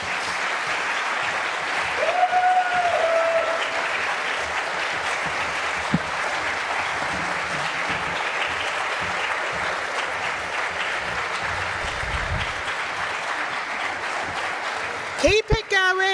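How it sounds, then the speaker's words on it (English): An audience at a Greenwich public question time session applauds the Assembly members taking the stage, sustained clapping throughout with brief whistles and a faint voice in the crowd, and a sharp bump and rustle near the end. "please give a round of applause for your Assembly members"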